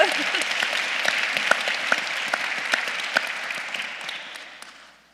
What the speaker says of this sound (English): we can clap that out